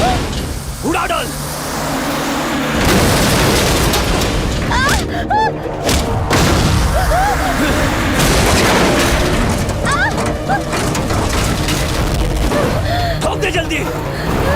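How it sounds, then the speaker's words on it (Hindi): Explosions in a Hindi-dubbed Telugu action comedy film roar continuously with heavy booms and crackling bursts like gunfire, loud and dense, while voices shout over the blasts. "उड़ा डाल।"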